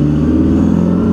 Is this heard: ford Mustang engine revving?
yes